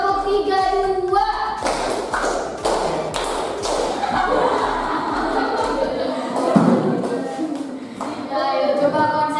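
A class of children claps hands together in counted bursts, sharp taps grouped in short sets with pauses between, close and fairly loud, while a teacher's voice and children's chatter carry over the claps.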